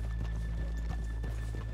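Horses walking in the video game Red Dead Redemption 2, soft scattered hoof clops under a steady low background hum, fairly faint.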